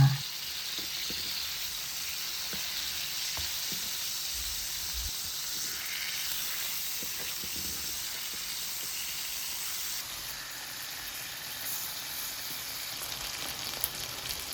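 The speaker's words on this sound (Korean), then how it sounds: "앞뒤로 골고루 잘 익힌 연어는 남은 소스 모두 부어서 졸여줍니다." Steady hissing and sizzling of salmon simmering in sauce in a pan, with small pops and bubbling crackles continuing throughout.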